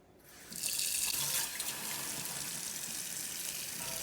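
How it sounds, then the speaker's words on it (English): Tap water pours steadily into a large baking dish, a loud, close, even hiss that starts abruptly and keeps running. "I just need to add water"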